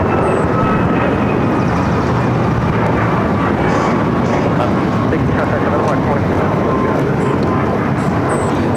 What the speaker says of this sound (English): Breeze A220-300 just touching down here on the south side.